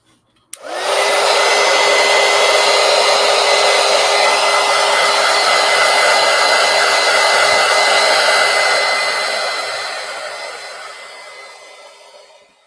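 A hair dryer blows on watercolor paint in a coloring book. It starts abruptly and runs as a loud, steady whoosh for about twelve seconds, easing off slightly toward the end, with no voices.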